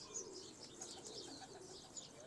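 Sialkoti pigeons coo softly at a household loft, low, faint murmuring calls with a few light chirps mixed in.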